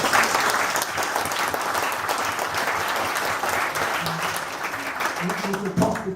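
Rally crowd applauding an MP speaking in support of NHS staff, dense sustained clapping with some cheering, loud and close throughout, with a brief voice near the end.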